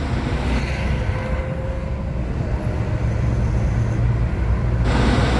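A car driving in northern Israel, a steady, close rumble of engine and road noise from inside the vehicle that holds even for the whole stretch, with a faint tonal hum and no talking.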